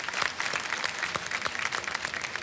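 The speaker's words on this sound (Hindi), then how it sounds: "तालियों के साथ इनका स्वागत।" Studio audience applause on the set of the quiz show Kaun Banega Crorepati, a steady, dense clapping from a large crowd that fills the whole moment without any voices.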